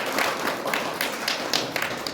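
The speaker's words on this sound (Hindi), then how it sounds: "अपने लिए तालियां बजाएं" Audience applause at a sports and youth event, a steady wash of many hands clapping at once, dense and continuous with irregular louder claps scattered through it, no talk.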